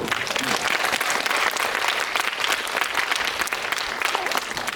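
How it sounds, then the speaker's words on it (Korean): A cinema audience at the Busan International Film Festival applauds steadily, dense clapping filling the whole stretch at a constant level from a medium distance. "얼른 박수 한번 주십시오."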